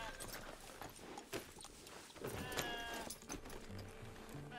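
A horse's hooves clip-clop at a walking pace in Red Dead Redemption 2, a soft, fairly distant series of irregular thuds, with a few animal bleats and voices in the background.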